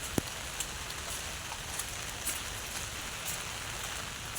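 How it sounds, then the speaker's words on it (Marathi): Heavy rain falls steadily on an umbrella and the surrounding ground beside a full pond and trees, a dense, continuous hiss with a few sharper drops standing out. "खूप पाऊस पडतो आहे"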